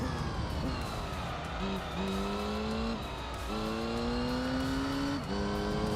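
Race cars in Gran Turismo 3, a loud continuous engine drone that rises and falls through gear changes, with the revving pitch sweeping upward several times and no talk over it.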